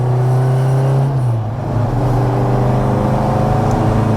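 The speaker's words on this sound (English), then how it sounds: "welcome to a drive in the 71 MGB GT" A supercharged 1971 MGB GT fastback with a Miata five-speed gearbox drones loudly while driving; the engine note drops in pitch after about a second, then holds a strong, steady pull.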